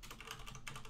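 Quick, close keystrokes on a computer keyboard patter in an irregular, continuous run, clear and alone with no voices.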